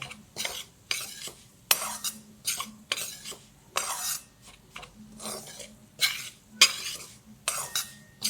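Moong dal being stirred in ghee for halwa, a spoon scraping the pan in repeated rhythmic strokes, close and fairly loud, with no talk.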